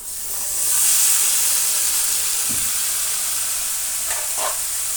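Chopped ridge gourd palya tipped into a pan of frying onions and garlic, giving a loud steamy hiss that settles into continuous sizzling, with a couple of brief stirring scrapes.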